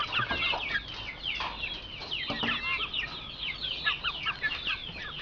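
Young Bangkok chickens, 41 days old, cluck and chirp continuously as a flock, with overlapping calls at moderate distance over a steady background.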